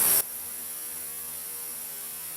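Xiaomi Dr. Ozawa ultrasonic glasses cleaner running, a steady low electrical hum with a faint high whine, continuous and close, after a brief louder burst at the start.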